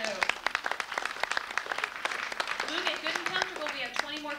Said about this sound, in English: How about a big round of applause for our volunteer